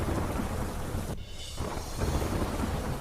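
Steady, heavy rain hisses throughout in Delhi, with a brief dip in the downpour partway through and low rumbling thunder underneath.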